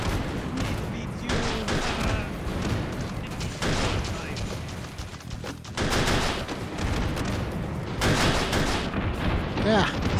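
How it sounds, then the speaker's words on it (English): Rapid gunfire and booming rocket blasts in the VR game Hot Dogs, Horseshoes & Hand Grenades, loud and repeated in irregular bursts, with a voice talking over them. "stop shooting rockets at me"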